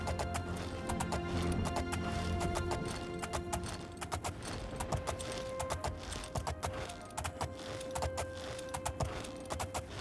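Horse hooves clopping in the video game Oblivion, an irregular series of sharp close hoofbeats over a steady ambient game hum, with no speech.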